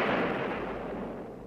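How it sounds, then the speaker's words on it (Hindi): Cannon fire from Jhansi's fort guns during the British assault on the fort, a dense continuous roar of booming blasts, loud and close, with no pauses. "सवेरा होते ही झांसी की तोपें फिर गरजने लगी।"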